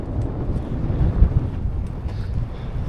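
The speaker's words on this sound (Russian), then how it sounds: "ветер, сильнейший ветер дует." Strong mountain wind buffets the microphone in a steady, rumbling roar with gusty surges, heard alone with no voices.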